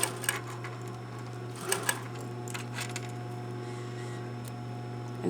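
A sewing machine does stay stitching on a costume band, giving a low steady motor hum with a few brief ticking bursts, close and moderately quiet, with no talking.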